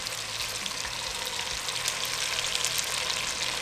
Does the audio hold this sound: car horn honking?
no